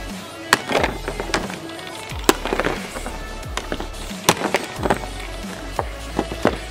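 A Logitech G933 headset being smashed through its hinge on cardboard laid over concrete, heard as a string of sharp cracking and snapping impacts, irregular and close, with rattling debris between the hits.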